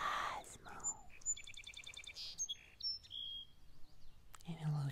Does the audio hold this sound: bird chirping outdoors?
yes